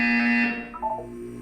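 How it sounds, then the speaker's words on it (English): A harsh electronic buzzer from the Portal 2 video game sounds loud and steady for about half a second, then fades into quieter game ambience. "When you hear the buzzer, look up at the ceiling"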